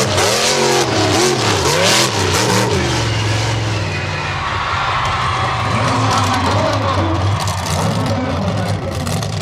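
A 1,000 horsepower Ford monster truck engine, Snakebite, revs loudly at an outdoor show, with rising and falling throttle sweeps early on, then a sustained heavy roar with crowd noise beneath it.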